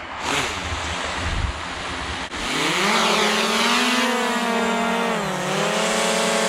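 A DJI Mavic Air 2 drone flies at sunset, its steady motor whine holding loud and continuous while the pitch rises and drifts with maneuvers; wind noise roars at the start before the drone sound takes over.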